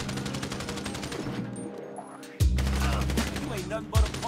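A GTA V shootout plays out with a spread of gunfire and a couple of sharp, heavy shots standing out, mixed under voices talking.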